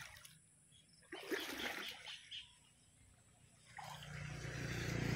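Irrigation water rushes and splashes in faint surging waves, rising and falling, then swelling into a steady flow toward the end.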